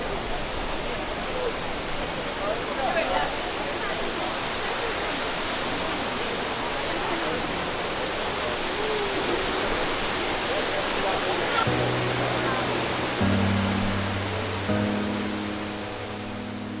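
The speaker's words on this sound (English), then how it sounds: "Fontana di Trevi, which more than just a fountain, looks like theater itself" Trevi Fountain in Rome pours and splashes continuously, a dense broad rush of falling water heard close and loud throughout, with faint crowd murmur and a few brief tonal bits near the end.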